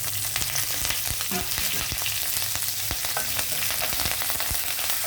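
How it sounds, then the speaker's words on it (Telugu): Curry leaves and green chillies splutter in hot oil with fried peanuts, a dense continuous crackle of rapid pops and sizzling, close and fairly loud, without speech. "కరివేపాకు వేయడం వల్ల ఆయిల్ చిట్టపట్ల ఆడుతుంది"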